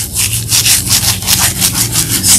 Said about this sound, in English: scrub in one direction, scrub in the other